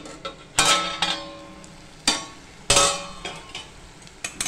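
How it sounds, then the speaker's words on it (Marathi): A spoon scrapes and knocks against a pan while masala for mutton sukka cooks, giving several sharp clanks at irregular intervals over a low sizzle, close and without talk. "आळणी रश्श्यामध्ये आता हा मसाला आपण शिजून देणार आहे"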